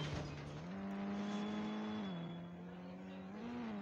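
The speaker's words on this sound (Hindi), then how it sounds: "तो मैं गाड़ी तो स्टार्ट हो गई है" Range Rover engine in the mobile driving game Indian Bike Driving 3D, a steady synthetic engine drone that rises slightly in pitch, dips, then climbs again, continuous and loud throughout with no talk.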